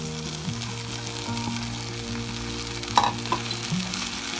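Mashed idli being stirred into fried tomatoes in a pan, a steady sizzle with spoon scrapes and a couple of louder clinks near the middle, close and continuous with no talking.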